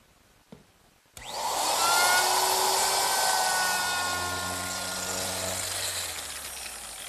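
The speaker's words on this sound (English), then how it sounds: "And I'll just use my router." A woodworking router rounds over the protruding wooden tenon ends on a Mission-style sofa: a short knock, then the motor spins up to a loud, steady, high whine with layered tones that gradually settles and slows.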